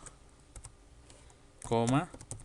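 Code goes in on a computer keyboard in quick, light key clicks, with a brief burst of louder taps toward the end, under a soft Spanish-speaking voice.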